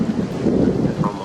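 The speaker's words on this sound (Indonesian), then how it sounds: "Saat itu dikenal dengan nama badai timur laut." Storm noise with steady rain and a low rumble of thunder, a dense continuous wash of sound heard alone without speech.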